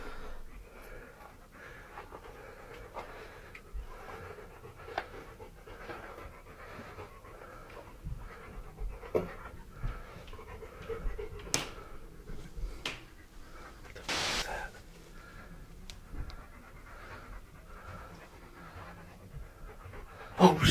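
A dog pants steadily in rhythmic, breathy bursts at close range, with scattered snorts and clicks and a few louder thumps, in a quiet setting with no voices.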